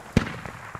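A single sharp gunshot from an infantry firefight in the Squad video game, one brief loud crack followed by a short fading tail, with faint later pops.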